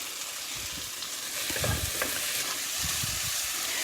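Amaranth greens cooking in a pan while being stirred, a soft continuous sizzle with low scraping and shuffling strokes from the spoon, close and fairly even throughout.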